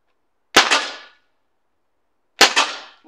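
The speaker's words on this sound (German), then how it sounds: "Ich schieße nochmal in die Mitte." Two sharp, loud shots from a Crosman 1077 air rifle fired at a target, each a crisp crack with a brief decaying ring, spaced about two seconds apart and alone.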